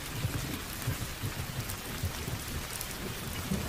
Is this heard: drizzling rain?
yes